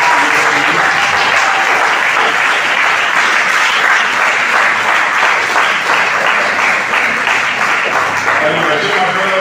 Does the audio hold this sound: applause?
yes